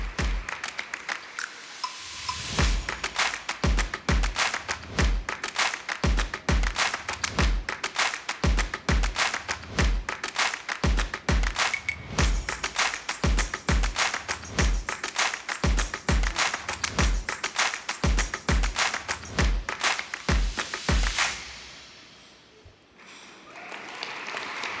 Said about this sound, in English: So applause for Katharina Barley